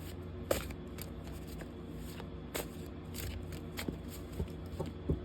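Swiss Marseille tarot cards being shuffled by hand, a series of crisp riffling bursts and papery flutters repeating irregularly, close and clear with no talk.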